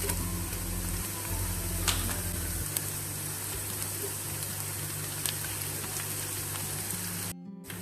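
Red chilies, ginger garlic, curry leaves and cumin sizzling steadily in hot oil for a curry, a continuous crackling fry with a few sharp pops, ending in a brief cut.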